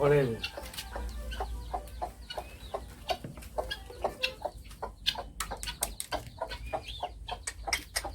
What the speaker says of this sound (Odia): ଇଏ ଦେଶୀ କୁକୁଡ଼ା